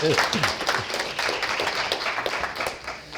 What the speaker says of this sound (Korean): 박수 한번 쳐주셔도 좋습니다.